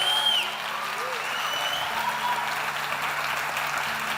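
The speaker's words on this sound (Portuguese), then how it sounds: "Você aplaudisse ao Senhor." Congregation applauding the Lord in a church service, a steady, soft wash of distant clapping with no distinct individual claps, carrying on evenly throughout.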